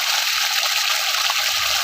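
Water gushing steadily from a running motor pump outlet, a dense continuous rushing splash that stays even and loud for the whole moment, with no voices.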